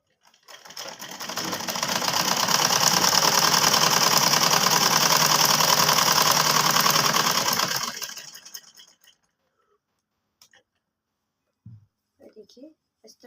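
A sewing machine stitches elastic onto a kurti trouser, running in one loud, steady, close burst of about seven seconds before stopping, followed by a few faint clicks and handling noises.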